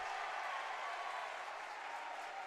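A basketball crowd in a gym cheers and applauds steadily, a dense continuous wash of clapping and voices holding at an even loud level throughout.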